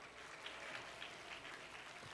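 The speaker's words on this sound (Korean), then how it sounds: "크게 박수해 주십시오." A crowd at a church service award presentation claps steadily throughout, a soft, even patter of applause heard from a little distance.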